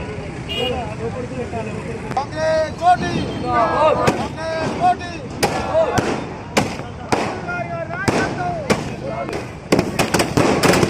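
Firecrackers burst in rapid, irregular bangs, some sharp and loud, at a Congress party street gathering at Ambedkar Chowrasta junction in Husnabad, Siddipet district, while people talk and call out throughout.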